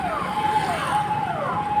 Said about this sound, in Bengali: এই হচ্ছে পুলিশের গাড়ি,